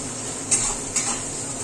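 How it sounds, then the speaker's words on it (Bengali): Onions frying in oil in a pan, a steady close sizzle with two brief scraping stirs of a utensil against the pot, no voices. "এদিকে পেঁয়াজ ভাজা চলছে।"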